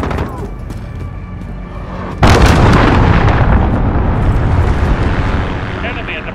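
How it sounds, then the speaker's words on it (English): Cruise missile explosions hit in Call of Duty: Modern Warfare on the St. Petrograd map, a sudden loud impact followed by a long, rumbling roar of blasts and debris that slowly fades. "Enemy cruise missile."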